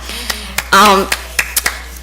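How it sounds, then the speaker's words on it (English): A few hands clap at a school board meeting, giving one brief burst of clapping between scattered taps and small knocks, while a voice talks nearby. "Give you a little clap."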